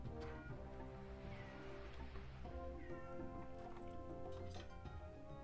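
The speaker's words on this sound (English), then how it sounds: "I'm sorry about my cat. She might be yelling for a while." Indoor pet cat yowling to go outside, repeated long wavering meows close to the microphone with faint room noise.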